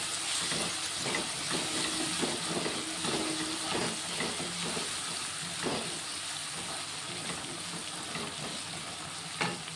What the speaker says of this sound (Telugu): ఒక 2 నిమిషాలు మెంతి ఫ్రై అవ్వాలి